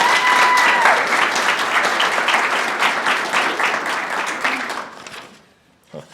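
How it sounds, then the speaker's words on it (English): Loud audience applause at a youth leadership graduation ceremony, dense steady clapping for about five seconds that thins and fades out, with a brief sound at the end. "Let's give all those students one more big round of applause."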